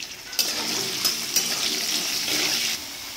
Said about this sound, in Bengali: আলুটা হালকা করে ভেজে নিচ্ছি